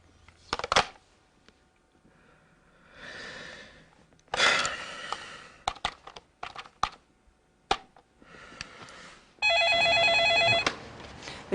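A telephone rings with one sustained electronic burst near the end, preceded by scattered clicks, rustles and tapping sounds in a quiet room.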